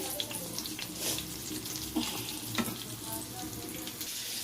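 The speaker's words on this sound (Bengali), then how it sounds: "দেওয়ার পরে তেলে দিলাম ছেড়ে, দিয়ে দিলাম এই যে ভালো করে একটু লাল লাল করে ব্রাউন ব্রাউন করে ভাজতে হবে।" Mushroom lollipops fry in oil with a continuous, fairly quiet crackling sizzle, and a few soft stirring knocks come through.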